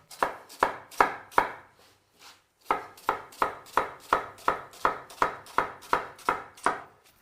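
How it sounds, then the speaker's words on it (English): A knife slicing a halved onion laid flat on a cutting board: crisp, evenly spaced chops close up, three quick cuts, a short pause, then a steady run of about a dozen more. "Just cut the onion in half here, lay it down flat so it can't roll away, and now just slice it down like this."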